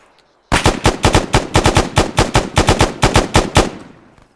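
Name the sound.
gunfire in video game Arma 3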